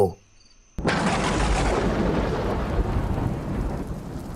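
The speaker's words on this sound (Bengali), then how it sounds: "এই যা, বৃষ্টি শুরু হয়ে গেল যে।" Cartoon thunderstorm effect: after a brief quiet start, a sudden crack of thunder breaks into a loud, steady rush of rain that continues to the end.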